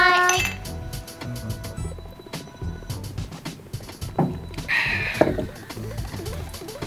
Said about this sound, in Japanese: じゃあ、お疲れ様ということで乾杯。